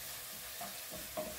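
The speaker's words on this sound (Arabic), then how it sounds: "نقوم بالتحريك جيدا." Peppers and falafel being stirred in a frying pan, a quiet steady sizzle with a couple of soft scraping stirs, close and alone.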